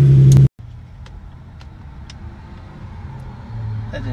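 A tuned Nissan 350Z idles nearby, a steady low engine rumble with a brief loud burst at the start, then a brief cutout, and the rumble picking up slightly toward the end.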